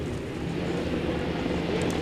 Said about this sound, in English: As they fire the engines